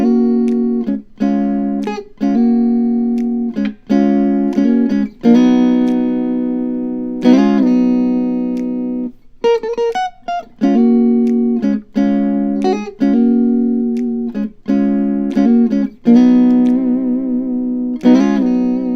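Guitar hammering on into a minor 7th chord in a song, a run of clean bright chord strikes with short gaps and a few quick single-note fills, loud and close with no talk.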